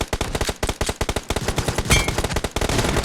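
Rapid bursts of pistol gunfire in the mobile battle game PUBG Mobile, a dense string of sharp close shots fired in quick succession for about three seconds, loud and with no talking.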